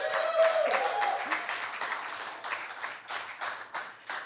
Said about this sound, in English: Let's get another round of applause for everyone who's performed and for Jimmy.